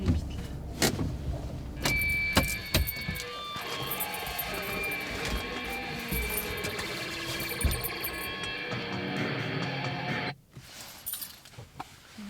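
A car pulls away and drives off outdoors, with engine and road noise rising over mixed clatter and a few sharp knocks, then dropping away abruptly near the end.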